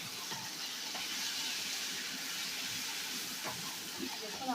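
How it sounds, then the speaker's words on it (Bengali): Tomatoes fry in mustard oil for a piyaj posto dish, giving a faint, steady sizzling hiss that runs throughout at low volume. "আবারও মিনিটখানেক ভালো করে ভেজে নেব টমেটোটাকেও।"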